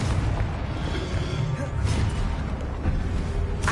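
Booming bursts from a Confringo blasting spell in Hogwarts Legacy, several blasts in a row against dense rumbling battle noise, loud and close.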